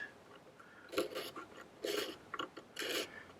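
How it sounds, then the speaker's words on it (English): Short rasping scrapes of a clean blade over Epiphone electric mandolin parts, three separate strokes close by with brief pauses between, fairly quiet and with no talk. "But I'm going to clean those now. Give them a bit of a scrape and clean them."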